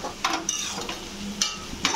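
Ground coriander, ginger, cumin and chili powder being stir-fried in a pan for a jackfruit fish curry, a soft sizzle broken by several brief scraping clinks of a spatula against the pan.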